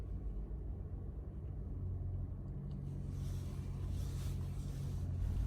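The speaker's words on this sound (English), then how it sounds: "A flashing green LED indicates a connection with the car, and the engine starts immediately." A 2019 or later Toyota RAV4 engine starts and settles into a low, steady idle rumble, quiet and constant throughout.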